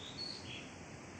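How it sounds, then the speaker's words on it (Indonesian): Faint, high bird chirps sound briefly in the distance over a quiet outdoor background. "Ada bunyi-bunyi burung."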